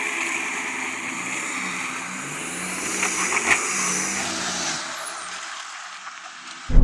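A Land Rover Discovery climbs an off-road hill at a steady pace, its engine a moderate continuous drone with a slight rise in the middle, fading toward a sudden bump at the end.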